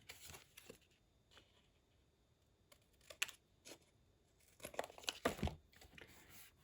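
Paper or fabric being cut by hand while crafting a small pouch, with quiet scattered snips and crinkly rustles, close by and faint, in short irregular bursts toward the end.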